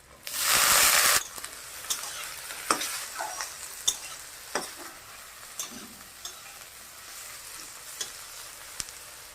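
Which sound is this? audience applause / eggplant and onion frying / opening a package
eggplant and onion frying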